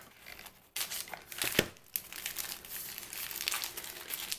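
Brown paper lunch sacks are roughly rolled into a pumpkin stem, giving close, loud crumpling and crinkling in bursts with a few sharper crackles and no talk.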